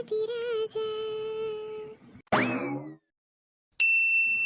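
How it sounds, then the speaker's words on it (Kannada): A phone rings with a bright electronic ringtone: sustained chiming tones, a short noisy burst, a brief silence, then a fresh ring that rings on steadily, close and fairly loud, with no voices. "ಯಾರಪ್ಪ ಇಷ್ಟೊತ್ತರ ಫೋನ್ ಮಾಡ್ತಿರೋದು"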